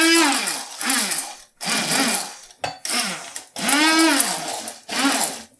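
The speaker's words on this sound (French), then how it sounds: "quand ton coulis a cette gueule-là, tu vas le mixer" A blender purées a fruit coulis in short gentle pulses. Its motor whines up and winds down again with each burst, loud and close, with brief silences between pulses.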